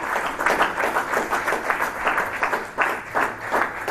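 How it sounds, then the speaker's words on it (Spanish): A church congregation claps during a sermon, a few seconds of moderately loud, rhythmic applause that swells and dips in pulses, heard from within the room. "Darle un aplauso grande"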